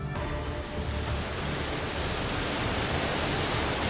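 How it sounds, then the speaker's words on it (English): Filthy water pours steadily out of a hole in a wall in the video game Steins;Gate 0, a dense, unbroken rushing roar with no voices. "It was the sound of water. I looked over and saw a hole opened in one of the walls. Filthy water was pouring out."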